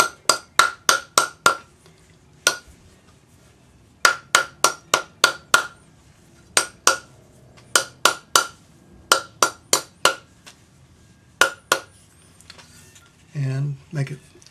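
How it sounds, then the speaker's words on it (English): Planishing hammer striking a twisted wire bangle on a metal bench plate: quick bursts of sharp, ringing metallic taps in groups of four to six, separated by pauses, loud and close, with a brief low murmur near the end. "then we're going to get our planishing hammer out"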